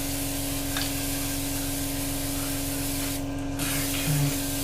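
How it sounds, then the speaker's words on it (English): Airbrush hissing steadily as a dusty coat is sprayed over an Academy 1/48 AH-64A Apache model helicopter, a continuous close airy spray with a brief pause near the end. "Give those tyres a good spray as well"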